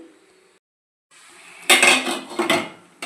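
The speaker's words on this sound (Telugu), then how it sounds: "ఇప్పుడు మూత పెట్టేసుకొని ఎసరం మరిగే వరకు అలా ఉంచుకుందాము" A lid set onto a cooking pot of water, giving a sharp metallic clatter of kitchenware with a few quick clinks, close and fairly loud after a short quiet moment.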